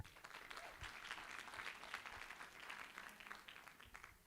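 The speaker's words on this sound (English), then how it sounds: "A round of applause." Conference audience applause, a steady burst of clapping from a crowd that holds evenly for a few seconds and then begins to thin out.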